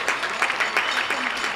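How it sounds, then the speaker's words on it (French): Audience applause, a short burst of dense clapping from a crowd that holds steady and moderately loud, with a voice speaking over it. "Ils applaudissent le Pen ou pas Le Pen, je pense."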